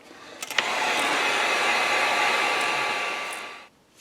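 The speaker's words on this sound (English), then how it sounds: "Now, I'm going to take the heat gun. I'm going to dry this real well" A heat gun blows hot air to dry copper paint on an S crank before stenciling, making a steady, loud, close whooshing roar that starts after a few clicks and cuts off near the end.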